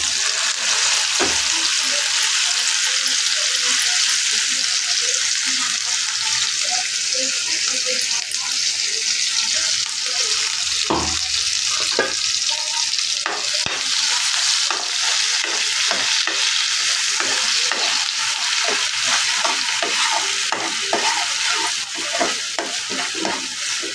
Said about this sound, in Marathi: परतून घेते तेलामध्ये.